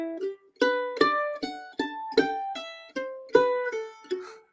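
A mandolin chord progression played with smooth voice leading: a run of about eight bright strummed chords in steady rhythm, each ringing briefly before the next, close and unaccompanied.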